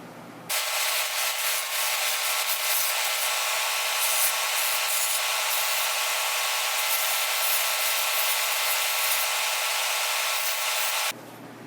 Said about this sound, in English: So I went ahead and sanded this shoe down